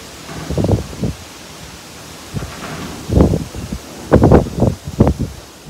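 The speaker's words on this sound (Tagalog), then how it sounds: "Lakas ng hangin" Strong gusts of wind come in bursts, rushing and buffeting the microphone with rustling noise, separated by quieter stretches.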